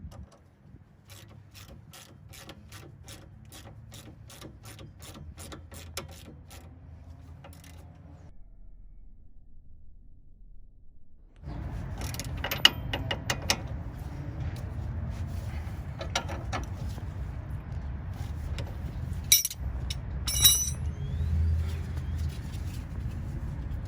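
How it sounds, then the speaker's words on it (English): Ratchet wrench fitted with a 17mm socket tightening a coilover on a Nissan Z, its rapid pawl clicks coming in quick bursts, then a pause before louder, busier clicking and clanks with workshop noise behind. "And tighten it down with your 17mm socket"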